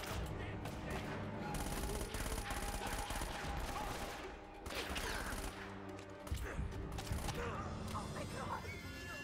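Gunfire in the video game Uncharted, dense bursts of shots and sharp cracks over a busy, continuous game soundtrack, with voices speaking throughout.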